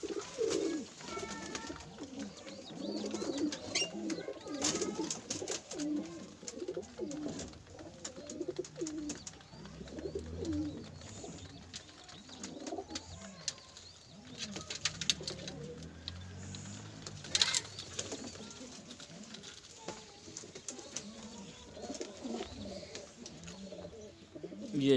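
Faisalabad pigeons coo repeatedly in soft, rolling low calls, several birds overlapping close by throughout, with faint rustling and occasional chirps in the background.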